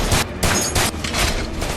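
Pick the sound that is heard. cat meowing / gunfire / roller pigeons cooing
gunfire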